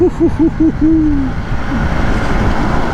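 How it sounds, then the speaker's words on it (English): A Husqvarna Svartpilen 200 motorcycle on a highway is pushed hard: several quick revving bursts give way to one sustained, rising engine note, loud and close against a heavy wind roar. "Alright, so let's whack this bike a bit."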